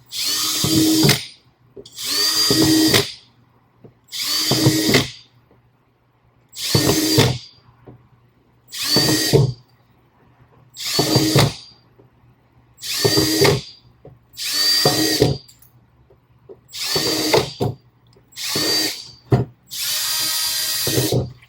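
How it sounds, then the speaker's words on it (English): A power drill whirs in ten short bursts while drilling air holes in a vermicomposter bin, each a second or two long with brief pauses between, loud and close with no talking. "we're also going to drill some air holes as well"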